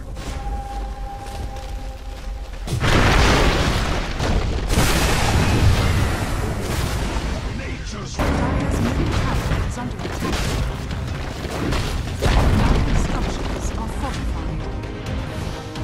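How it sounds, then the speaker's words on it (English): Dire's middle tower in Dota 2 takes damage amid loud, continuous game combat: booming impacts, spell bursts and clashing effects layered densely, with surges in intensity at several points. "Dire's middle tower is under attack."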